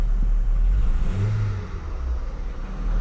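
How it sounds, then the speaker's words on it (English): Volkswagen Golf GTI engine idling and blipping with an exhaust leak, a close, steady low rumble with a brief rise in revs, no talking. "Oof, got an exhaust leak too."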